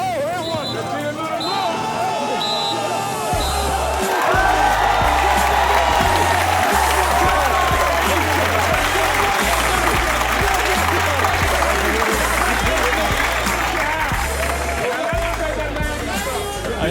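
A big crowd at a basketball game claps and cheers steadily, a dense wash of applause and hubbub with voices talking above it and a rhythmic low thumping underneath.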